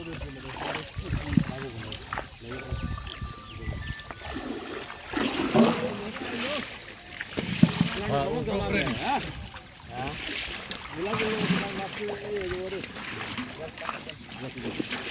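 Water splashes and sloshes repeatedly during net fishing amid loud, overlapping shouting voices outdoors.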